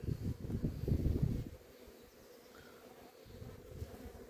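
Honeybees buzz inside a beehive as young bees emerge from their cells, a close, dense low hum that is loudest for the first second and a half, then drops to a fainter, steady drone.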